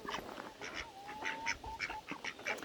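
A group of ducks quack in quick, overlapping calls, fairly near but soft, with faint outdoor background noise.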